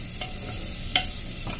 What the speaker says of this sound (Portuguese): ó, tá fritando.